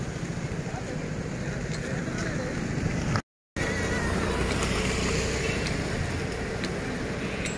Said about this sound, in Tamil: தண்ணி ஃபுல்லாக ஓடுதுங்க ஆனால் ஆற்றுல